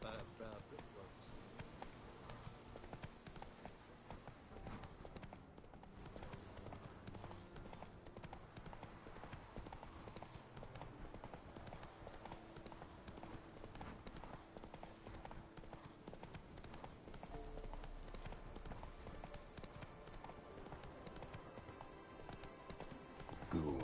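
Roach, a horse in The Witcher 3 game, gallops with steady clip-clop hoofbeats running throughout under a dense game soundtrack, with voices talking over it.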